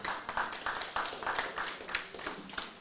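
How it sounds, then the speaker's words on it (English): Steady, rhythmic clapping fills a meeting hall at a party branch gathering, with even, repeated beats at a moderate, fairly distant level. "just clap for that"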